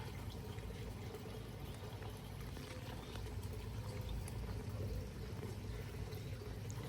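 Water pours steadily onto garden plants in early June, with echinacea and black-eyed Susan nearby. A faint, continuous splashing trickle goes on outdoors without pause.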